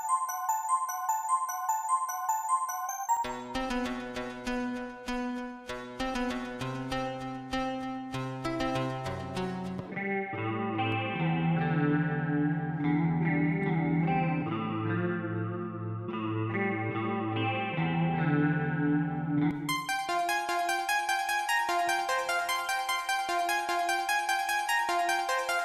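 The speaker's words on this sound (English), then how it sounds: "So we've got synth sounds in here." Synth tones from the Riffler riff-generator app on iOS play a continuous sequence of bright, effected melodic notes with chorus-like shimmer, shifting between high bell-like patterns and lower sustained chords, with no talking.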